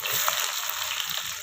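Bay leaf and onion sizzle in hot oil as ghugni is started, a steady, close hiss of frying with a few brighter crackles.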